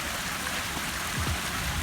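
Water runs over a backyard waterfall in early spring, a steady close rushing wash with a few faint low knocks underneath.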